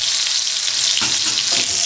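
Butter melts and fries in a fresh pan for grapefruit segments, giving a loud, close, continuous sizzle with a couple of soft bumps from the pan.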